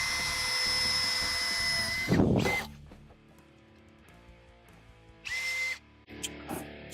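A handheld power drill bores holes in sheet metal before spot welding, with a long high whine, a grinding burst as the bit goes through, a pause, then shorter, louder bursts of drilling.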